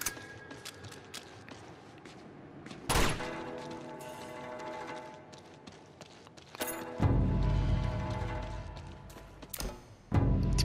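Bursts of gunfire in Uncharted 2: Among Thieves crack out three times over a steady background of game music and noise.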